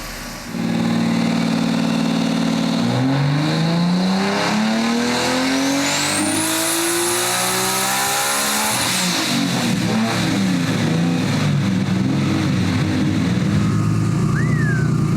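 A 1300 hp Nissan R32 GTR with a turbocharged engine pulls hard on the dyno under heavy boost, climbing steadily from a low rumble to a loud, sustained high-rpm scream before backing off and idling roughly.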